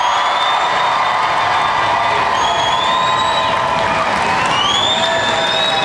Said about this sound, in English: let's get all the applause, all the screams, all the cheers out here in the auditorium